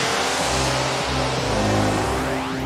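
A spaceship in Space Haven powers up for a hyperspace jump with a loud, continuous engine drone whose tones rise and shift like a revving motor, alone without talk.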